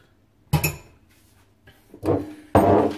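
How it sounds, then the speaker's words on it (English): A utensil scrapes leftover honey mixture out of a pan, with a few separate close scraping strokes that grow longer and louder, separated by short quiet gaps. "let's just scrape it off so we get everything"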